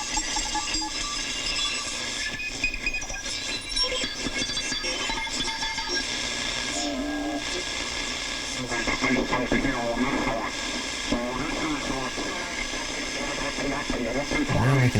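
Restored 1940s secret listening post receiver tuned to a crowded Morse code CW band gives continuous dense static and hiss with overlapping faint tones and warbling signals, steady and fairly loud throughout.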